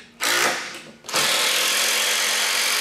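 A compact impact driver, Makita XDT15 or DeWalt DCD809, drives screws into wood in two loud, close bursts: a short whir, a brief pause, then a sustained high-pitched buzz that holds steady to the end.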